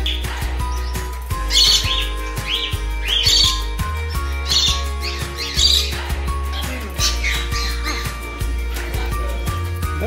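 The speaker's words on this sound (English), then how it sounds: "these are our birds" Pet birds chirp and squawk throughout, with sharp repeated calls and tweets at close range in an indoor room, busy and fairly loud over a low household hum.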